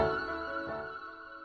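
A Falcon Glide Cyan synth lead preset is played on keys with a piano, giving a bright sustained note that fades gently over a second and a half, alone and fairly quiet.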